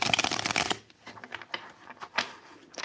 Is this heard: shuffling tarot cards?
yes